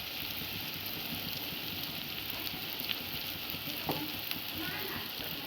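Fried ingredients are stirred in a pan with turmeric powder, a dense, even sizzling hiss heard up close with soft occasional scrapes.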